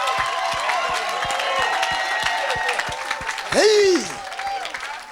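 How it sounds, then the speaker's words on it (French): Church congregation clapping in a steady rhythmic beat while cheering, with a loud shout breaking out near the end over the clapping and crowd noise. "Give him a clap offering."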